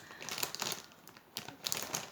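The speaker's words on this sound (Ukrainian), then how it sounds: "Зараз я зніму з неї пакетик" Crinkling plastic wrapper being pulled off a potted mini phalaenopsis orchid and crumpled in short bursts, close and fairly quiet, with no talking.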